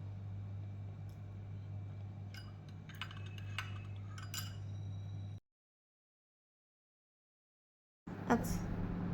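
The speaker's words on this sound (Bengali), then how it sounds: "আমি কিন্তু দেখো দুধটা সমানে একটু নাড়িয়ে যাচ্ছি, যাতে নিচে না লেগে যায়, যেহেতু অ্যালুমিনিয়ামের সসপ্যান" A spoon stirs milk thickened with cornflour in an aluminium saucepan for malai kulfi, making faint scattered metallic clinks over a steady low hum. A stretch of silence follows before the sound briefly returns.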